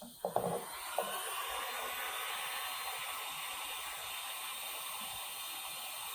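A heat gun or hair dryer blows hot air onto vinyl wheel wrap material on a Tesla Model 3 aero wheel, a steady close hiss running throughout after a few brief handling clicks at the start.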